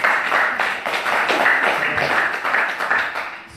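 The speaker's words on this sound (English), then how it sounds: "Everyone give Eka a round of applause." An audience claps steadily for a volunteer at a spiritual talk, a dense, even patter of many hands held close and fairly loud with no voice over it.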